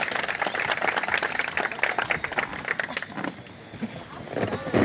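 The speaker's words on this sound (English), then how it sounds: "Round of applause." A round of applause and clapping from a rafting group after helping someone back into the raft, a dense burst of claps mixed with voices and splashing, easing off and then picking back up toward the end.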